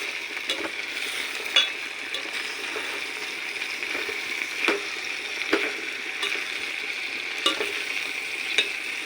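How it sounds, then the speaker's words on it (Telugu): Cucumber pieces and dried prawns stirred in a frying pan, a steady sizzle running throughout while sharp scraping clicks of the spoon strike the pan every second or so, close and fairly quiet. "ఇప్పుడు దోసకాయ ముక్కల్ని వేసేసుకుందాం వీటన్నిటిని కూడా చక్కగా కలిసేలాగా కలుపుదామండి"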